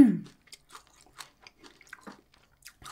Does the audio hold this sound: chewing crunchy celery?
yes